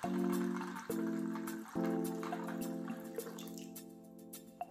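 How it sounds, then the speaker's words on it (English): Water pours from a container into a medium bowl of raw cashew nuts, giving a faint trickling fill with a few soft drips and splashes, quiet and close, with no talking. "Add enough water to cover the nuts completely."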